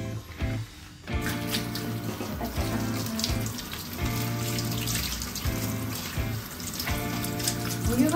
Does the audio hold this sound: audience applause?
no